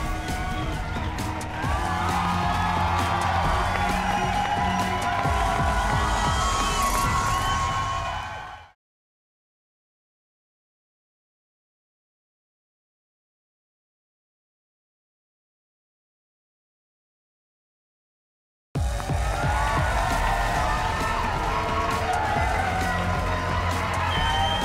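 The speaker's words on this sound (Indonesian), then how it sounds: "Sekali lagi tepukan untuk Fazli dan Faizul" A studio audience on the Malaysian game show RM1,000,000 Money Drop applauds and cheers in a loud, dense wash that cuts to total silence for about ten seconds, then resumes.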